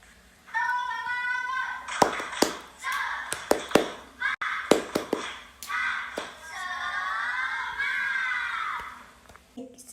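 A class of schoolchildren performs a rhythmic spirit clap (tepuk semangat) in a classroom: bursts of sharp group claps in a pattern, mixed with loud chanted and shouted young voices.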